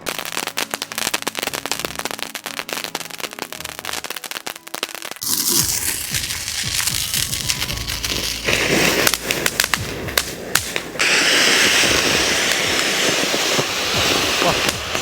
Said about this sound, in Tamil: அண்ணன் வெடி பறக்க விட்டு வெடிக்கிறாரு